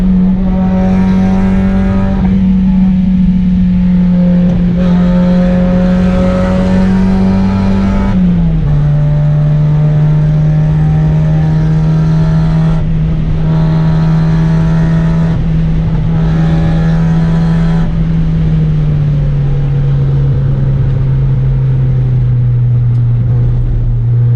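An NA Mazda Miata laps the PIR racetrack in 100-degree heat, its engine droning loud and steady from onboard, with the pitch dropping at a gear change and then sagging slowly.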